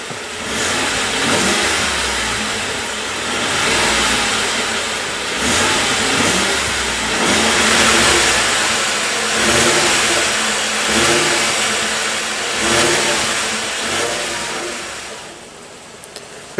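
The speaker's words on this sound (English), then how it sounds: "Let's go ahead and rev it up." A 2016 Ford F-150 with a 5.0 L V8 revs repeatedly from idle, each throttle blip swelling into a deep grumbling roar and falling back, in a steady series of pulses up close.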